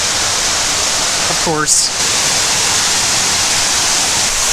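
Toquerville Falls rushing down layered rock, a loud, constant broadband roar of falling water close by, with a short spoken phrase briefly heard over it.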